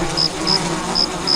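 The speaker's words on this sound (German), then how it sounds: "Bienen." Bees buzz in the Biosys video game's savanna, a thin, high droning that pulses in short repeated bursts over a steady ambient background.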